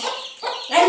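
A chicken (hen) clucks in short, close bursts, three quick nasal calls in under a second, fairly loud and alone.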